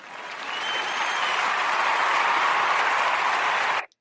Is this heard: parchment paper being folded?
no